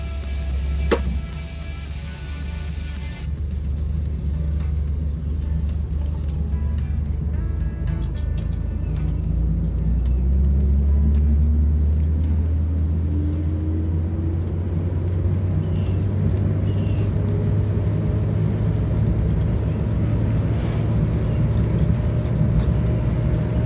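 A Chevrolet Corvair drives along with a steady low engine rumble, its pitch sliding upward and then dropping as the transmission shifts gears, heard from inside and without talk.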